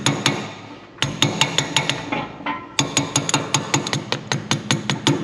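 A hammer taps repeatedly on a sooty auction roller, quick sharp metallic knocks in bursts, with a brief pause and then a denser run of evenly spaced taps, close and alone.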